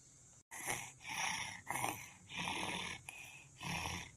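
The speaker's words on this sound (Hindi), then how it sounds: "ये ना कह दिया खा बहिनी कैसा खर्राटा मारती है।" A woman snores in a series of rasping, rhythmic inhalations, roughly five loud, close snorts separated by short pauses.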